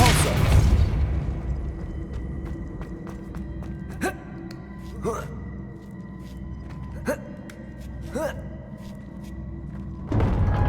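A Depulso spell cast in Hogwarts Legacy, heard as a burst at the start followed by a series of short whooshing magical pops spaced about a second apart over a low ambient game drone, ending with another louder burst.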